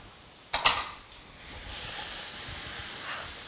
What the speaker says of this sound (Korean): 김치 송송 썰은 거 국물 될 수 있으면 없게 해서 볶아주세요.